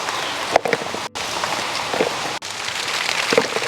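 Light drizzle falls steadily in an outdoor vegetable garden among tomato plants, making a constant soft patter with a few brief gaps and occasional nearby rustles, with no voices.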